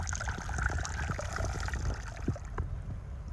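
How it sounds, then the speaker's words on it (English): Water gushes steadily from a high-flowing leak in a cracked concrete water tank set in swampy black peat ground, a continuous close trickling and splashing rush with a few gurgles. "The high flowing leak just produced."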